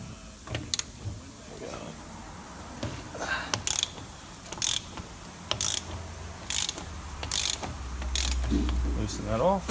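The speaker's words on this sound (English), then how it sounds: "We've got a 30mm socket and ratchet just on the end." A ratchet on a 30mm socket loosens the cartridge fuel filter of an Isuzu NPR truck, giving sharp metallic clicks in short bursts, close by, with a low rumble and some talk.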